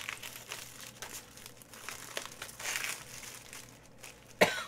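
Gloves being pulled off the hands make soft, close crinkling and rustling, ending in a sharper snap.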